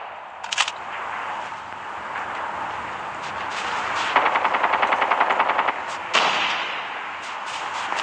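Gunfire in the mobile game Call of Duty Mobile: a rapid machine-gun burst cracks loudly over a steady din of battle noise, with a few isolated single shots before and after.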